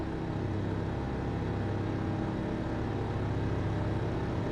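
Old race car engine in Gran Turismo 4 in a Le Mans race, a steady dense drone with continuous low rumble and gear-like harmonics, loud and unbroken throughout with no talk.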